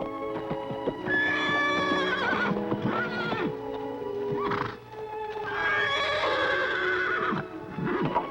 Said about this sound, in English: a great wild horse and the only person on earth who can ride him